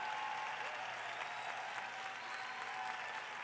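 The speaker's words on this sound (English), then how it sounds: "That deserves a big round of applause." Steady, dense audience applause filling a large event hall, heard from a distance at moderate volume and sustained throughout without speech over it.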